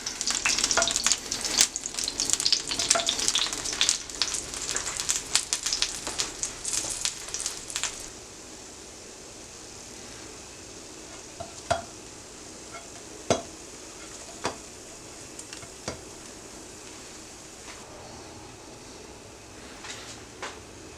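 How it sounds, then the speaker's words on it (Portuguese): Bread slices frying in olive oil give a busy, crackling sizzle for about eight seconds, then it drops to a faint hiss broken by a few isolated clicks and taps of kitchen utensils. "E vamos dourar nesse azeite as fatias de pão."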